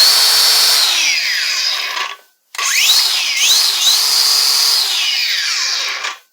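A DeWALT DCG418 60V FlexVolt brushless angle grinder for 4.5 to 6 inch discs runs loud and close with a high whine. It spins down, cuts out briefly, then restarts and revs up and down before stopping, with no talking.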